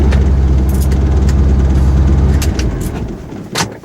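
A truck engine idling loud and close as it parks in a driveway, with a heavy low rumble that eases off toward the end and a few brief clicks above it.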